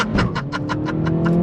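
A 2023 Acura Integra with a six-speed manual pulls under throttle, its engine drone steady and close while a quick rhythmic pulsing beats over it.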